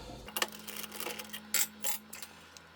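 Small metal parts of a tungsten electrode grinder being taken apart, giving a few faint clicks and rattles with a steady low hum beneath.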